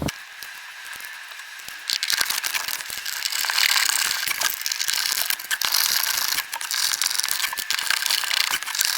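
Ratcheting, crunching clicks of a screw being driven to fasten a 67 Designs phone mount rail into a Jeep JL tray cover, a close, steady run of mechanical clatter with short pauses and no talk.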